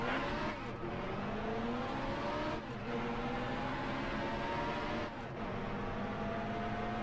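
NASCAR race car engines in the game NASCAR Heat Evolution roar continuously, shifting pitch as they rev and change gears, loud and steady with no talking over them.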